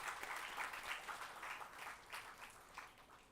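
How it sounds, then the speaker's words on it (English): Students clapping in a hall at an MBA and MCA orientation day at Anurag University, a steady crowd applause that runs without a break under light background noise. "give yourself a big applause"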